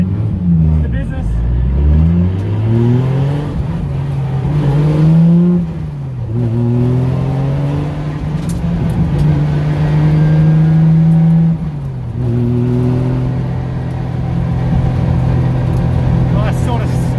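A Nissan S15 Silvia with a straight-cut gearbox drives on a track, its engine loudly revving up and down through gear changes while the gearbox whines steadily underneath. People talk over the engine noise.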